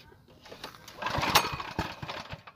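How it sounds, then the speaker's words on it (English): A 12-valve Cummins diesel engine cranks over without catching, a steady churning starter rhythm that swells louder midway and continues unevenly to the end. "Put that switch on and crank it up."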